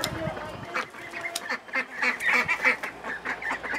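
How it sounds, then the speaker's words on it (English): Ducks hanging around a wood shop quack and honk repeatedly, close and fairly loud, in an irregular chattering stream. "Look at the little wood shop ducks."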